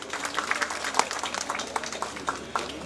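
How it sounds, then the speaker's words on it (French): An audience claps at an airport inauguration in the Comoros, with scattered individual hand claps over a low murmur of voices, moderately distant and fairly quiet. "Applaudissez encore une fois."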